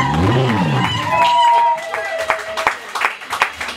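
Wedding congregation breaking into applause and cheering, a dense burst of clapping at first that thins into scattered claps with voices and chatter mixed in.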